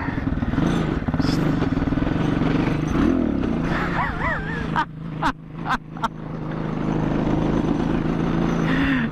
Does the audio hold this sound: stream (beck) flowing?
no